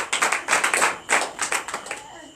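A congregation at a night service of deliverance and prophecy claps in acclamation to Jesus, with sharp, closely spaced claps in rhythmic bursts and a brief pause midway.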